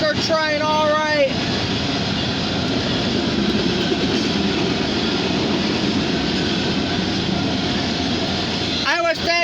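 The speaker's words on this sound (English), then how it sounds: "Alright, CN oil tanker train," A loud, continuous rumble and rolling roar comes from a CN oil tanker train passing close by on a CSX line in Erie, Pennsylvania. Horn blasts open and close the pass.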